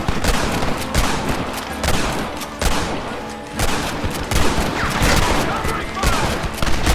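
Gunfire in the video game Red Dead Redemption: heavy, continuous volleys of rifle and pistol shots with repeated loud cracks throughout, forming a dense battle din.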